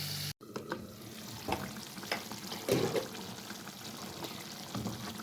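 Golden-fried chicken karahi sizzles with tomatoes in a pan, a low steady frying hiss with soft stirring scrapes and a brief louder burst midway, close up and without talk.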